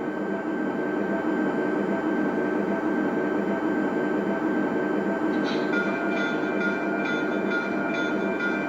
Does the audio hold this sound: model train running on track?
yes